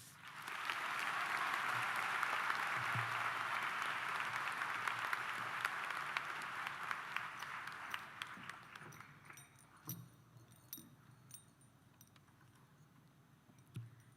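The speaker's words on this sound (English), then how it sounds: "please let's give a huge round of applause for Ms. Cibrian, Ms. Grubb, Mr. McKenna" Sustained loud applause from a large audience at a high school commencement ceremony, steady for about eight seconds, then thinning into scattered claps and fading.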